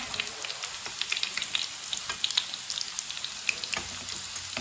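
Beef kababs fry in a pan on their second side, giving a steady close sizzle with scattered crackling pops throughout and no voices.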